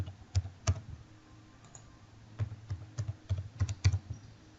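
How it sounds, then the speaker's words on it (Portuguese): A password being typed on a computer keyboard: quiet, close key clicks in short irregular bursts with pauses between them, and no talking. "A senha, eu vou digitar a senha aqui."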